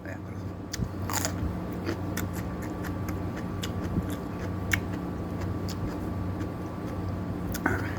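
Green chili peppers dipped in homemade makjang are crunched and chewed close up over a quiet, steady background, with crisp bites repeating irregularly and a few sharp snaps.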